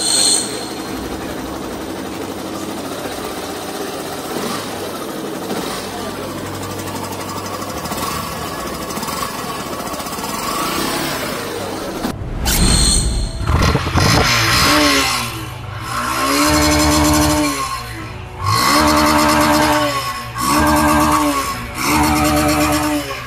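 A high-mileage used motorcycle engine runs with a rough, rattling valve clatter, shifting after the midpoint into loud rhythmic revving bursts that rise and fall several times; no one speaks.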